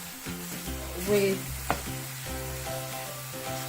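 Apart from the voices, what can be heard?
ginger garlic paste sizzling in a pan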